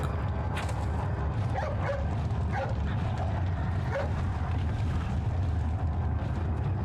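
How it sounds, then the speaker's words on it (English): A dog barks and whimpers in a video game, with short yips and whines heard over a constant loud low rumble of in-game ambience. "Hey, it's that dog. It's that dog!"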